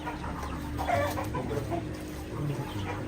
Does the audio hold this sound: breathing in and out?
no